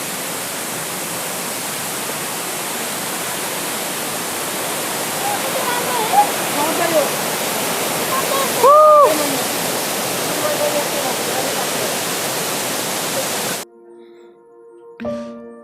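Water from the Sahasra Dhara temple spouts in Parbat, a dense steady roar of falling water, briefly overlaid by a voice, that cuts off near the end.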